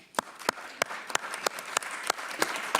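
Applause in a city council chamber: a modest group clapping steadily and fairly close, with individual hand claps distinct throughout.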